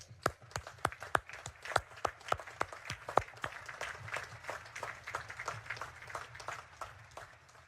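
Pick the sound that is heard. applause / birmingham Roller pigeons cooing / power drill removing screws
applause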